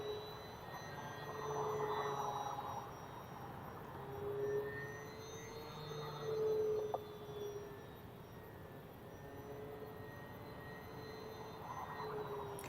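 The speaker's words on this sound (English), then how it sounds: "I'm just going to line it up and get it going. It's a really nice and easy takeoff." An FMS Sky Trainer 182 V2 RC model plane takes off, its faint electric motor whine rising and falling in pitch as it climbs away, with no talk.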